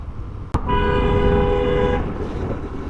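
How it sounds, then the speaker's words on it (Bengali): A motor vehicle on the Dhaka–Mymensingh road sounds one long steady horn blast of well over a second, close and loud over rushing traffic and wind noise. "হর্ন দিছে আগে থেকে হর্ন দিলে তো বাকি মানুষগুলো সতর্ক থাকে"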